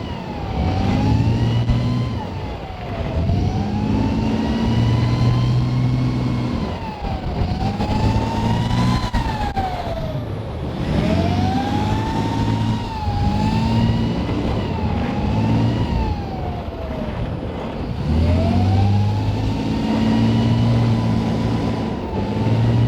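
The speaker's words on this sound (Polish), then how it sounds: "abyście mogli posłuchać dźwięku silnika Leoparda" A Leopard tank at a Polish training centre runs and drives nearby, its heavy engine droning loudly and continuously with rising and falling pitch as it works through repeated accelerations.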